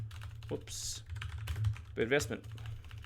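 Computer keyboard keys tapped in short bursts while entering a property type into financial software, with a voice talking over and between the clicks.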